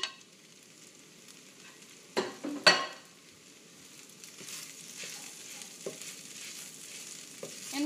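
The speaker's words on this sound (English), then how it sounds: "the last thing we're going to add is the chorizo and the bacon bits." Chorizo and bacon bits fry and get stirred in a pan for Cuban-style pollo a la barbacoa, a steady close sizzle broken by a few sharp scrapes and knocks of the utensil against the pan, with no talk.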